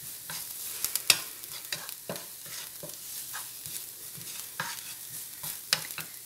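Onions and sausage saute in a pan, giving a soft, continuous sizzle broken by repeated spatula stirs and scrapes, fairly quiet and close, with no talking.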